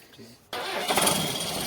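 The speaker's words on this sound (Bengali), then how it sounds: "দেখতে পাচ্ছেন গাড়িটা স্টার্ট হয়ে গেল" After a quiet moment, a road roller's large engine abruptly cranks and catches, settling into a loud, steady rumbling roar close by.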